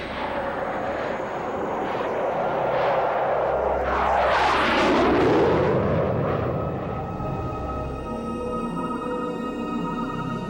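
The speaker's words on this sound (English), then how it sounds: "the Belgian Air Force were able to scramble 2 F-16 fighters to intercept" Two Belgian Air Force F-16 fighter jets flying past, a loud continuous roar that swells and sweeps through a pass near the middle before fading back to a steady rumble.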